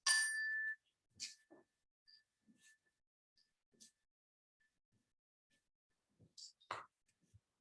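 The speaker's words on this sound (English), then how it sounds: "Now the Sabbath chimes." A sustained bright chime rings out at the start of a Sunday Sabbath service, then fades into near silence broken by a few faint clicks, soft taps and light rustles.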